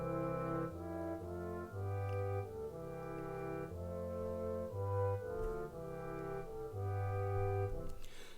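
Composition playback in chorale style, a trombone melody over a tuba bass line, both instruments moving together in the same rhythm through a series of sustained chords, steady and full for several seconds with no voices.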